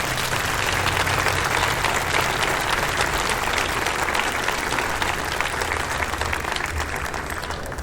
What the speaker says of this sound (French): Vous pouvez les applaudir encore une nouvelle fois.